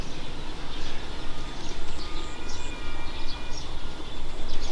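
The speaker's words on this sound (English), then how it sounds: "Now you hear a little bit of noise from the toll road construction today." Steady broadband rumble and hiss from distant toll road construction, with faint bird chirps scattered over the top throughout.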